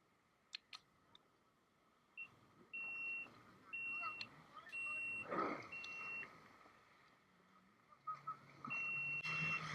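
Intermittent electronic beeping from a jet ski in Dubai: short tones in irregular bursts, some spaced apart and a few clustered, with quiet background voices and ambient noise between them.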